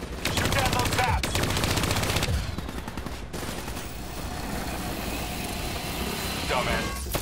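Turret gunfire in Call of Duty: Black Ops III comes as dense, rapid automatic bursts up close, breaking off briefly before a rumbling battle din resumes with more scattered shots.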